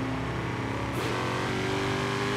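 A powerful American muscle car in Forza Horizon 3 revs loudly and continuously, a dense engine roar with a brief rising swell partway through, no voices.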